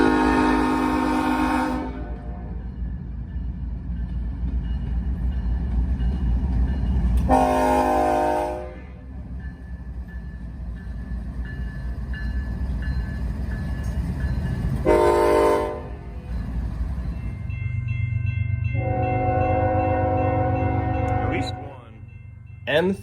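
A Norfolk Southern freight train rumbles past at night with a deep continuous roll, punctuated by several long, loud blasts of its horn, the last ones harmonically rich and sustained.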